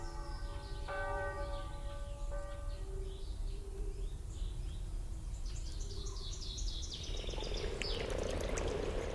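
Frogs and toads croaking in a wetland, a chorus of repeated calls with bell-like tonal notes and rapid chirping bursts, soft and moderately distant, with a rising trill toward the end.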